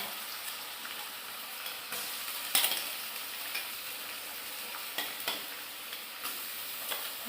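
Dried fish frying in a pan with garlic, ginger, onion, green chillies and dried chillies gives a steady, close sizzle, with a few sharper stirring clicks and scrapes scattered through and no talking.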